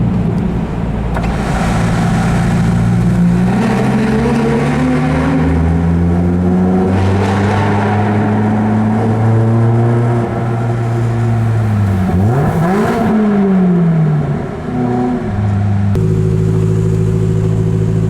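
A Lotus sports car cruises at about 40 km/h on a snowy mountain motorway behind salting trucks; its engine drones loud and steady from inside, the pitch rising and falling with gentle throttle changes.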